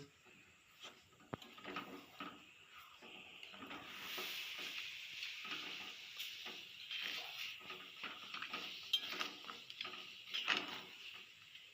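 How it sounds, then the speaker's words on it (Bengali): Mango pieces stirred with sugar in a pan for pickle, giving a continuous soft scraping and clinking of a spoon against the pan with faint sizzling, moderately quiet and steady throughout. "এবারে চিনির সাথে ওই আমগুলো একটু ভালো করে মিক্স করে নেব এইভাবে অনবরত নাড়তে হবে"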